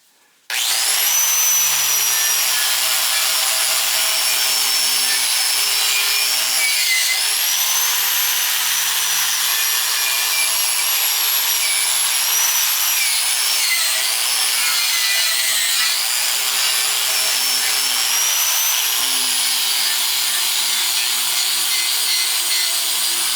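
A wire wheel grinds rust off parts of a vintage Craftsman 6-inch Model 103 jointer, producing a loud, continuous high-pitched whirring scrape with slight shifts in pitch as the pieces are pressed against it.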